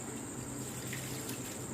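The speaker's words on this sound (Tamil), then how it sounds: "இல்ல 1 கப்பு தண்ணி ஊத்திக்கலாம்." A short burst of a cup of water pouring steadily onto flattened rice (aval) in a container, a continuous splashing hiss.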